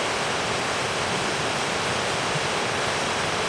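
The Șipote waterfall near Salciua de Jos in Alba county, Romania, sends up a steady, dense roar of falling water, loud and unbroken throughout with nothing else audible.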